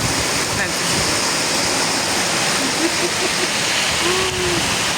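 Heavy rain with hail pouring down outdoors, a loud dense steady hiss and patter close to the microphone, with a few faint tonal sounds in the background.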